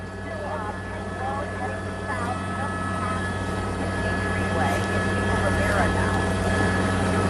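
Police helicopters hover above a car chase after armed robbery suspects in Southern California, giving a steady rotor drone that stays constant throughout, mixed with a news anchor's voice talking over the top.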